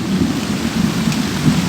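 Steady heavy rain pours during a storm with low thunder rumbling throughout, loud and continuous with no talking.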